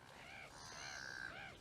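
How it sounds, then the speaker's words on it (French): Seagulls calling outdoors: several overlapping squawking cries with a harsh, wavering tone, somewhat distant and faint over a steady background, with nobody speaking. "Car il y a des mouettes."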